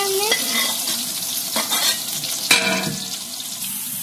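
Onions sizzle and fry in a pan while a spoon stirs them, giving a steady hiss broken by several scraping stirs and clinks, close up with no talk.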